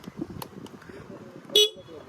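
A single short, sharp horn beep from a 2025 Honda Activa 6G DLX scooter sounds once, loud and close, after a stretch of quiet talking.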